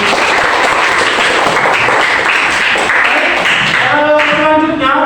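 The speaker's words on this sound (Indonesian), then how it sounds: "Tepuk tangan." A classroom of students in an Islamic religious education lesson claps loudly together, a dense, sustained burst of applause that fades as a voice comes in near the end.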